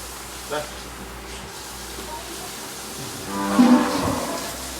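Cattle low in the cowshed of the Huncha temple monastery, which keeps about sixty head; one brief moo comes early and a louder call near the end, with a voice speaking over the barn's background noise.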